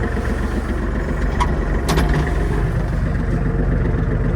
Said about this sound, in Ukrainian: Трішки опустимо знову та поглянемо на роботу фрези